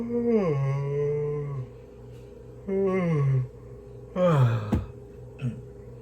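A person yawns several times, drawn-out vocal sighs that slide downward in pitch, with quiet pauses between them, close to the mic.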